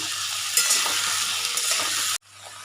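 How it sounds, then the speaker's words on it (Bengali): Potatoes fry in a pan while being stirred, giving a loud, steady sizzle with scraping stir strokes. The sizzle cuts off abruptly near the end, then returns more quietly, with no talking. "আলুটা একটু ভাজা হয়ে যাচ্ছে"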